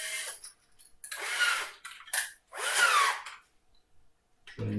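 A power drill with a 5.5mm bit bores into a wall clock part, running in several short, close whirring bursts separated by brief pauses, with no voices.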